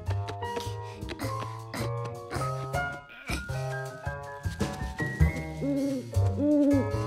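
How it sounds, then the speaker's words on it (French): Nocturnal bird calling at night in a children's cartoon, hooting owl-like calls mixed among busy musical score and effects, moderately loud and frequent throughout. "Georges n'avait jamais vu un oiseau comme celui-ci pendant la journée. Il devait être nocturne, lui aussi."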